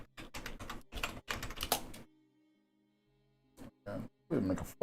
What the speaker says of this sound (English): learn to type, man.